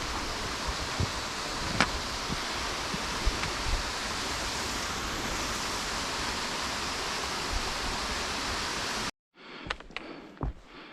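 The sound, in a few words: Wardbrook Cascades waterfall in the Adirondacks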